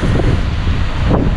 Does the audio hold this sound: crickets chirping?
no